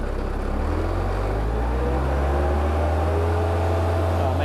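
A Bobcat 763 skid steer's Kubota 2203 diesel engine runs up from low to high idle, a loud, smooth, steady mechanical drone that rises slightly in pitch and holds even throughout.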